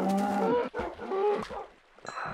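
Cows moo in a farming video game, a few drawn-out, low, tonal calls heard up close with no talk over them.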